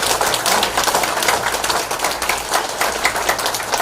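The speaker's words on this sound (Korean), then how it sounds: "한성주 장군에게 박수를 드려주십시오" Dense, loud applause from an audience at a Korean security lecture and rally in Houston, honoring a general: a continuous roar of many hands clapping at once, sustained evenly throughout.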